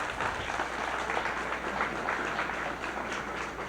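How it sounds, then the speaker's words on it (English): Steady audience applause for a country band in 1986, many hands clapping in a dense, continuous patter that holds at an even level throughout with no voices standing out. "Let's give them a nice big round of applause here"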